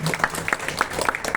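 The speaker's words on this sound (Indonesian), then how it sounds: "Tepuk tangan buat kepada firman Tuhan." An audience at a church Praise Day gathering claps together in a quick, uneven run of hand claps that stays moderately loud throughout.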